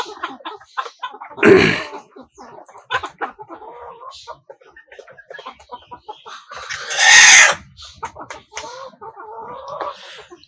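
Desi chickens clucking inside a chicken house, with two louder bursts of squawking or crowing standing out over steady, close-by clucks and chatter.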